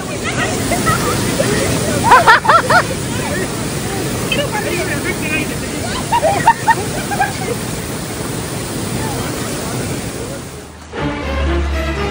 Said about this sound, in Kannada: ನೀರು ಹೊಡಿತಾ ಇದೆ.